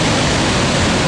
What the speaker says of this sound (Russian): брызги от водопада.